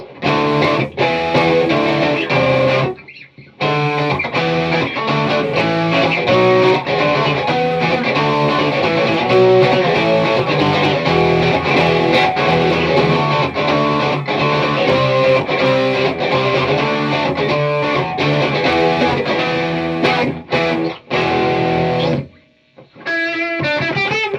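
An electric guitar, a 1985 Peavey Patriot played through a Tube Screamer distortion pedal, plays a continuous riff with crunchy overdriven distortion, loud and sustained, with a couple of brief pauses between phrases.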